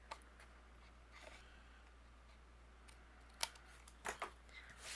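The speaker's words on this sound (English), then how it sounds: "you can go ahead and trim that off on the back side too here" Scissors trim overhanging cardstock with a few faint, quick snips near the end, close by in an otherwise quiet room.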